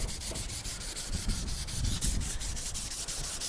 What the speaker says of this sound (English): So if your tools are rusty as well, that surface rust, just use CRC and 1200 sandpaper.